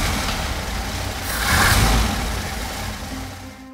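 A classic Mercedes-Benz car engine runs steadily, then swells into a brief rev before settling back to a rough, even idle; no talking.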